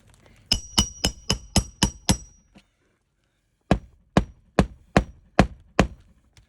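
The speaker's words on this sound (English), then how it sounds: "just for me hammering this roof" Two quick bursts of sharp hammer blows on roof shingles, seven then six, ringing out crisply with a short silent pause between the sets.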